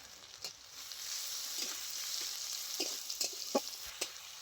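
Onion, green chillies and ginger-garlic paste fry in hot oil for a fish curry, giving a steady soft sizzle with a few scattered clinks and stirring scrapes.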